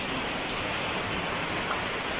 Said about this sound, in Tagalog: bumuhos na nga yung ulan